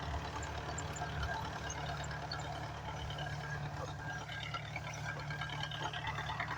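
A spray tractor runs in a wheat field, giving a steady, continuous low engine drone with a knocking diesel texture that holds at an even level throughout, with no talk over it.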